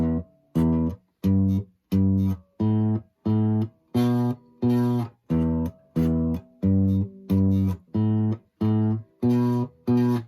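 A thumb plucks a bass part on the thick strings of a guitar, a steady run of about fourteen short, evenly spaced low notes, each clearly separated by brief gaps, played alone and close.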